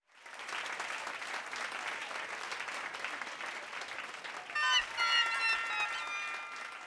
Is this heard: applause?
yes